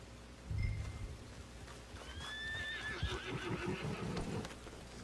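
A horse whinnies loudly in a rising, wavering call in Red Dead Redemption 2 Online, followed by the clopping of hooves over a low ambient hum.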